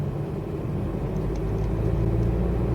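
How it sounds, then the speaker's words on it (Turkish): Volvo XC60 diesel accelerating in manual mode from about 1500 rpm, heard from inside as a steady low engine rumble and road drone that builds slightly, with no talking. "Gaza bastıktan yaklaşık bir saniye sonra yani iki saniye olmadı ama bir saniye sonra araba ileriye fırladı."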